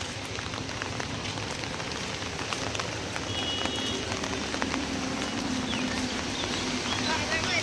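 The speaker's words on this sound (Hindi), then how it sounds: "बाजार घूमते घूमते बारिश आ गया," Steady rain falls over an outdoor market, a dense, even patter with faint bustle and scattered clatter underneath, continuous and fairly quiet throughout.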